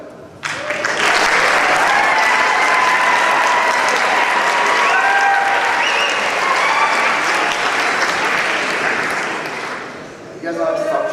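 A school athletic assembly crowd bursts into loud, sustained applause and cheering, dense clapping with whoops holding steady for about ten seconds before tapering, then a speaker starts talking.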